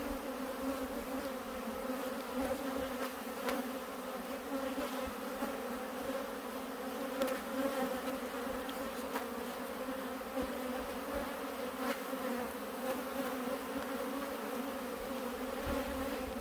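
Carniolan honey bees in an open hive give a steady, soft droning buzz, with occasional individual bees passing close and some faint handling noises during a brood frame inspection.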